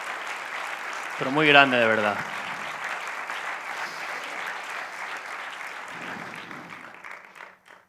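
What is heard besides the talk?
audience applause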